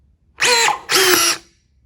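A Gesipa Firebird Pro Gold cordless nutsert gun sets a rivet nut with two loud, close motor whirs, the second one slightly lower in pitch, separated by a brief pause.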